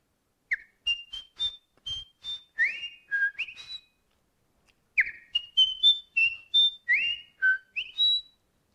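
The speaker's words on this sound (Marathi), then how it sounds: "एक छोटासा पक्षी आहे, त्याचा नाव नाचरा." A small fantail sings two phrases of sweet, varied whistled notes that step up and down, separated by a brief pause.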